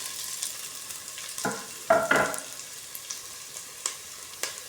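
Shrimp going into a frying pan: a faint, quiet background fizz with a few short crackling bursts of sizzle as the pieces land, then scattered light pops.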